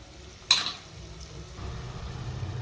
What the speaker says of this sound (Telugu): ఉల్లిగడ్డ బాగా వేగిపోయింది కాబట్టి మటన్ వేసేస్తున్నాను.